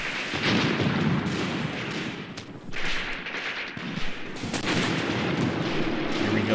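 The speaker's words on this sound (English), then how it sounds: "There's some return fire." Gunfire and mortar fire in the war game Graviteam Tactics: Mius Front, a dense, continuous crackle of shots and booming blasts that carries on for several seconds with brief dips, loud and without talk.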